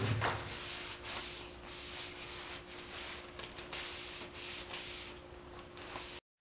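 Watco oil being worked by hand into a wooden axe handle, a soft, steady rubbing and brushing hiss with repeated strokes, fairly faint and close, no voices.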